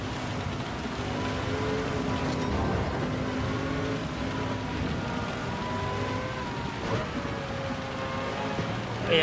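Steady hiss of heavy rain pours over the Le Mans circuit in Gran Turismo 7, with droning race-car engine tones running underneath for the whole stretch.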